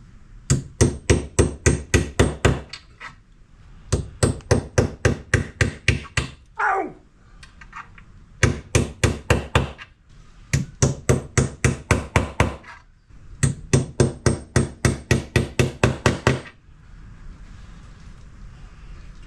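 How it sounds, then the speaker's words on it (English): Hammer blows striking a nail into wood while building a blind corner cupboard, in rapid bursts of about ten strikes each, loud and close, with short pauses between sets. "and hammer the other end into the wood."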